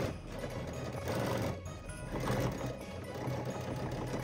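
A sewing machine top-stitches a gold metallic fabric buckle onto a dress belt, humming continuously at close range in two or three steady runs with no talking.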